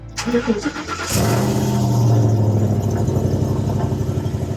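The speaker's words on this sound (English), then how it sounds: "We're gonna turn on the truck, make sure she doesn't blow up." A Gen 1 Ford Raptor pickup truck engine cranks briefly, then catches and settles into a loud, steady idle with a low rumble.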